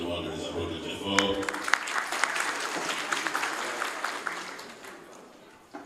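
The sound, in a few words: applause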